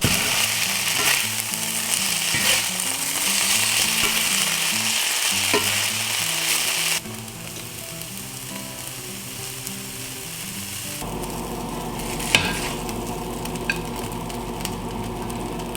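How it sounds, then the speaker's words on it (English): Bacon and hash browns fry in a pan with a steady, close sizzle, punctuated by scraping and clinking of a utensil stirring the food, continuing alone without any talk. "Got our bacon all cooked up nice and crispy."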